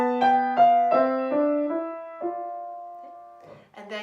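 Piano playing the B section of a piece: a gentle, quiet melody of single struck notes, one long held note ringing out and decaying before a few softer notes resume, with no voices.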